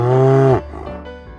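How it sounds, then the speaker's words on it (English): A single cow gives one loud, close moo lasting about half a second, heard alone and followed by a short quiet tail. "The cow says."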